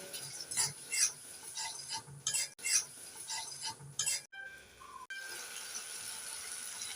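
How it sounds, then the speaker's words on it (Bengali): Spice paste with green chili paste being stirred and fried in a pan for a Bengali fish curry, a steady scraping and rasping of a spoon against the pan with faint sizzling, repeated strokes at close range, no talking. "একটু নেড়ে ছেড়ে দু মিনিট মশলাগুলোকে কষে নেবো"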